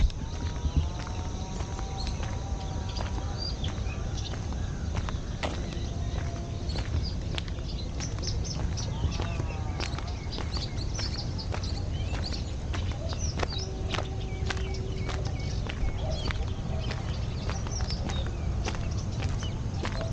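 Outdoors at sunrise beside a large lake near a steel bridge, birds chirp and call in scattered short notes over a constant low ambient rumble, with clip-clopping or tapping sounds mixed in and no talking.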